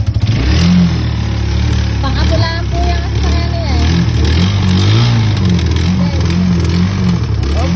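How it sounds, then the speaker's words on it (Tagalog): A motorcycle engine runs and revs close by in a rural Filipino setting, its low throb rising and falling throughout while people talk over it. "ito ay nagpapandara ng motor, oh"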